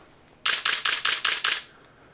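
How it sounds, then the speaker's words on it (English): Camera shutter firing in continuous high burst mode at 1/500 s, six rapid crisp clicks in an even quick rhythm, close and loud, followed by quiet. "you'll be able to hear the turnaround of the shutter, and you'll hear like more rapid fire"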